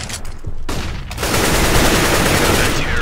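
In CS:GO, a thrown flashbang grenade goes off with a sudden loud burst about a second in, followed by dense, sustained gunfire and harsh noise.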